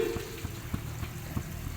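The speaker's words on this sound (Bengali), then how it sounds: "দেখো জল দেওয়ার পর এটা ফুটে গেছে" A pot of Bengali aloo posto, potatoes in poppy-seed paste, bubbling after water is added, a soft steady simmer with small regular pops and gentle sizzling, close and quiet.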